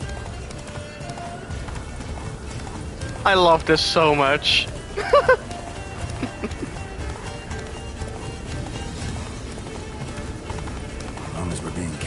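Roach, Geralt's horse in The Witcher 3 video game, gallops with a steady, rhythmic clip-clop of hooves running throughout, while voices talk over it and game sounds fill the background.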